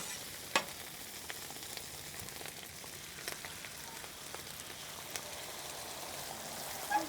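Eggs frying on a griddle, with a steady, quiet sizzle and crackle throughout and a few sharp clicks and taps of a utensil along the way.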